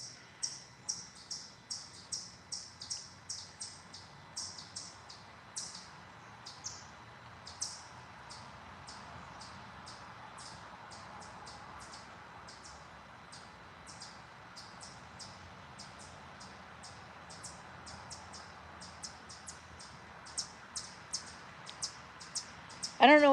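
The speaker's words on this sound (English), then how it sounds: "all that chirping that you're hearing, those are chipmunks, and they're getting louder" Chipmunks chirp in a forest, a quick series of short, high, faint chirps repeating at first, thinning out, then returning more densely toward the end over quiet outdoor background.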